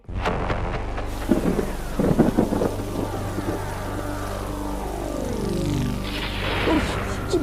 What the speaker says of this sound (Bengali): বাজ পড়ছে রে বাবা